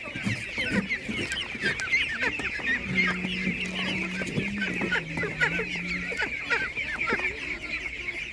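Chickens cluck steadily throughout, with a lower drawn-out fowl call in the middle, set against busy outdoor background noise at a livestock market in Ukraine.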